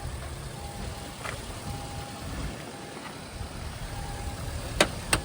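A Daihatsu Atrai 7 engine runs steadily with a low rumble and road noise, interior-sounding, with a couple of faint clicks near the end.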